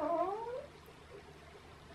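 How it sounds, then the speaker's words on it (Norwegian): A domestic cat gives a single clear meow close by at the start, then fades into quiet room sound. "Den lyden der var pusen."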